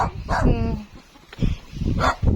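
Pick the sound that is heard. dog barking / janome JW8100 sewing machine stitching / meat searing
dog barking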